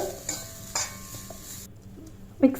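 Close, intermittent scraping and stirring as ingredients for Kerala puli inchi roast in a pan, a few soft clinks of a utensil against metal, with light sizzling underneath and no talking.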